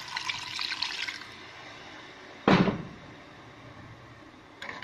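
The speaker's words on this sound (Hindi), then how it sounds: "थोड़ा सा पानी डाल दूंगी," Water is poured from a vessel into a pan of cooked kofta to make the gravy, a brief loud splash after a stretch of running, hissing water, with a faint second splash at the very end.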